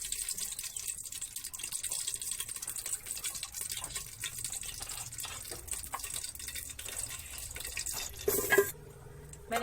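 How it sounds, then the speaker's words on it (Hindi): Water runs from a tap as chopped, salted bitter gourd pieces are washed for a lentil curry, a continuous splashing and trickling stream with dripping, steady and close, briefly gushing near the end, with no talking. "अब मैंने पानी से धो लिया"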